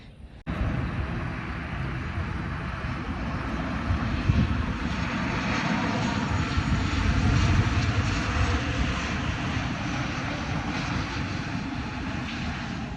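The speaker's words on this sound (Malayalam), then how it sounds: "ഇപ്പോൾ ഇറങ്ങിയ ഫ്ലൈറ്റ് ഉണ്ടല്ലോ, അത് നമ്മളെ എയർ ഇന്ത്യ എക്സ്പ്രസ് ആണ് കേട്ടോ." An Air India Express passenger jet lands at an airport, its engine roar rising from a sudden start into a loud, sustained rumble that peaks midway and holds steady, heard from a nearby viewpoint without speech.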